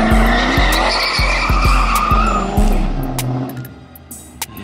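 Tires squeal loudly during a car burnout, with a sustained screech over a pulsing engine rev that rises and then fades and thins out near the end, without any voices.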